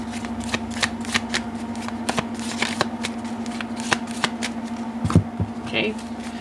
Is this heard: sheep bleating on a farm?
no